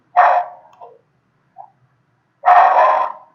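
Two loud yelping barks from dogs indoors, separated by a brief faint yip, with no talk over them.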